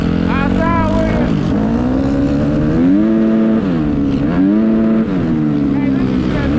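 A dirt bike engine revs hard and continuously, its pitch climbing and dropping through repeated throttle blips, loud and close throughout.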